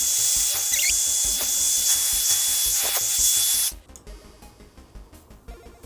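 A hair blow brush motor whirs steadily at close range with a broad airy hiss, then cuts off abruptly after nearly four seconds, leaving only faint handling noises.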